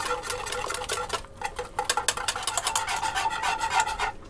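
Chocolate Guinness cake batter is whisked in a pan with a whisk, making close, rhythmic scraping and rasping strokes that repeat steadily throughout.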